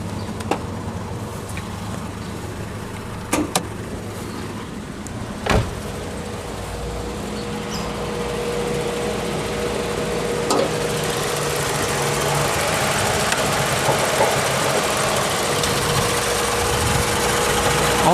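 A Toyota Yaris engine, with a fan belt due for replacement, runs at idle with a steady, close low rumble and a faint whining tone. A few sharp clicks and knocks sound early, and the engine noise grows slightly fuller toward the end.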